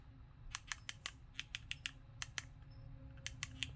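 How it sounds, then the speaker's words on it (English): Small new keypad buttons on a Radioddity GD-88 DMR handheld radio being pressed repeatedly, giving a quick irregular series of close, sharp squeaky clicks over a low steady hum. "And the buttons squeak, they're so new."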